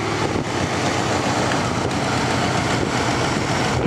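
A 1967 Buick engine on a 27°F morning, idling at fast idle shortly after a cold start, giving a loud, steady broadband rumble mixed with wind noise throughout.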